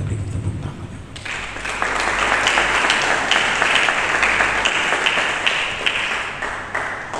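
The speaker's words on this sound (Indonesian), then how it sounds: "Mari kita beri tepuk tangan." A church congregation bursts into loud, sustained applause during a sermon, many hands clapping densely after a brief quieter moment, with a low hum beneath.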